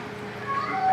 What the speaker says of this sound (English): And if you hear that, that is my cat.